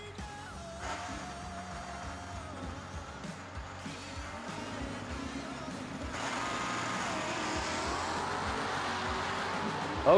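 A '66 Chevrolet Chevelle wagon, O-Stock stick shift, drag races a G-Stock automatic '67 Chevy II at Bowling Green. Steady engine roar grows louder and fuller around the midpoint, with faint talk underneath.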